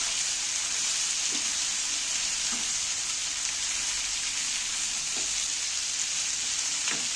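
Tomatoes fry in a pan over a low flame, giving a continuous hissing sizzle. A few soft, scattered scrapes of stirring sit in it, and no one talks.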